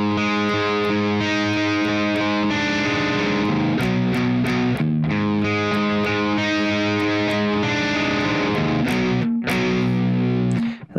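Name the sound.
electric guitar played with distortion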